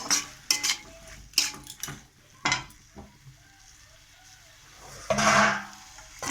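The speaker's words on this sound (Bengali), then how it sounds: "নিয়ে এইভাবে মশলাটা 2 মিনিট ফিরে কষিয়ে নেবেন" Ground spice paste sautéed in a pan for a jackfruit seed dish, heard as intermittent scraping stirs and clinks of a spatula over a soft sizzle, close up, with quiet gaps between strokes.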